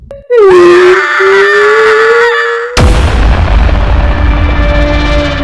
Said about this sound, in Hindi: तभी अचानक हवेली की दीवारों से चीखें आने लगी।